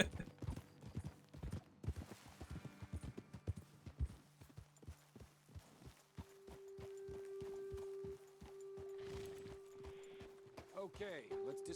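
Horse hooves clip-clop steadily on the ground while riding in Red Dead Redemption 2, a close, rhythmic patter of hoofbeats that slows and fades toward the end, with game sounds and a hum underneath.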